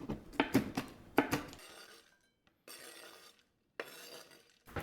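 Knife chopping cooked bacon on a cutting board for a broccoli salad: a quick burst of close, crisp taps at the start, then quieter intermittent scraping and faint clatter.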